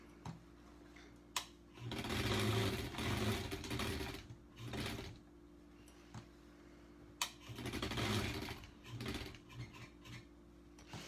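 A home sewing machine stitches appliqué on a quilt block in two bursts of steady whirring, starting and stopping with a quiet ticking pause between runs.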